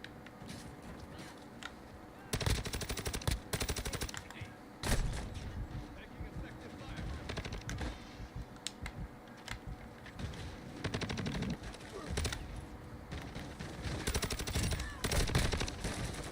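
Shotgun fire in an online video game lobby, bursts of loud blasts in clusters and rapid runs with gaps between them, while players talk over the gunfire.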